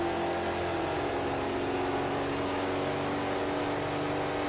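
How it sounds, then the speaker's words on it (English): A steady buzzing race car engine whine with layered harmonics holds constant at sustained throttle through a tight turn at the Twin Ring oval, heard through video game audio. "You can hear Stalker working the throttle there, trying to get the car to go around the tight turn 4."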